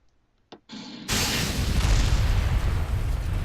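A missile is fired from a reinforced troop transport in a video game: a brief click and short pop, then a sudden loud roaring launch blast that continues as a sustained heavy rumble.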